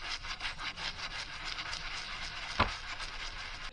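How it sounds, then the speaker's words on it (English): Scrubbing a tarnished coin with pink cleaning paste, a steady close rubbing and scraping texture in quick repeated strokes, with one sharp tap near the end. "So I have the pink stuff, give it a scrub."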